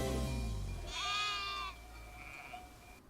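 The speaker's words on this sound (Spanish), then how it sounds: "Cordero, oveja." A sheep or lamb gives one clear, wavering bleat in the middle, followed by a fainter second call over a low background hum.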